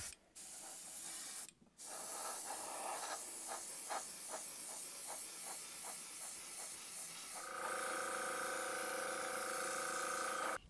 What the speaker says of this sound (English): I'm gonna finish this thing off in between coats with some Montana matte varnish spray.